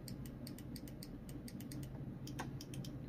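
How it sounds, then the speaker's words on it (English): Micro switch inside an iRobot vacuum cleaner clicking, a rapid series of small crisp ticks in an uneven rhythm, close and fairly faint over a low steady hum, with no voices. "click. That's a micro switch."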